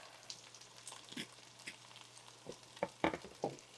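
Onions fry in a pan with a quiet, steady sizzle, broken by a few sharp scrapes and clicks of stirring near the end.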